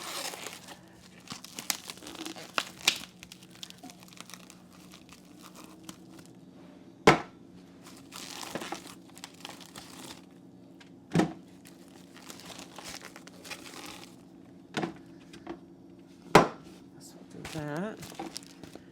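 Plastic packaging of beef bones crinkled and torn open by hand in a home kitchen, a steady rustle with several sharp crackling peaks, close up, with a voice speaking over it.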